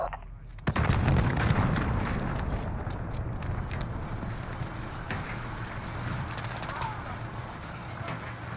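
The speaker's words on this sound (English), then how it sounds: "Enemy cruise missile incoming." Cruise missile strikes in the video game Call of Duty: Modern Warfare hit with a sudden heavy boom, then a long rumbling roar that fades slowly beneath battlefield clatter and scattered crackling shots.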